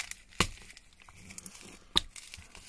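A plastic bag being stuffed into a tight space, with two sharp crinkling crackles and softer rustling between them, close up and alone.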